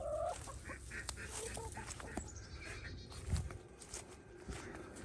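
Backyard chickens cluck and murmur close by as the coop is opened in the morning, a steady busy chorus with shuffling steps and no talking.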